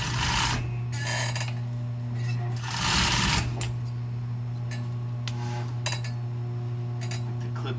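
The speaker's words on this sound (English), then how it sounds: "I lock the stitch, sew it around this little nose." Sewing machine stitching custom pads, producing a steady close whir with short bursts of faster stitching and a few pauses between runs.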